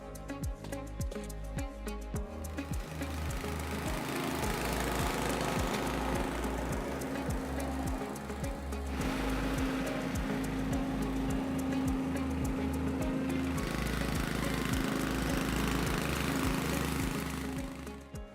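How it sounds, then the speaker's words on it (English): A Cobra WV580SPL wheeled garden vacuum runs with its scarifier attachment fitted, giving a loud, continuous motor drone with a low rhythmic pulsing and small shifts in tone, heard alone without talk. "the Cobra wheeled vac, a great piece of equipment that's got many uses all around the garden"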